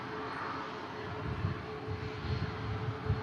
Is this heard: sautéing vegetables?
no